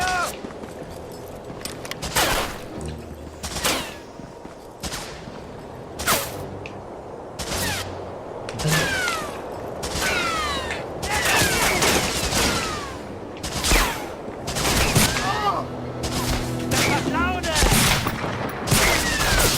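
Medal of Honor game gunfire crackles in repeated bursts, mixing rapid machine-gun rattles with single loud shots and fusillades over nearly twenty seconds, with occasional shouted voices.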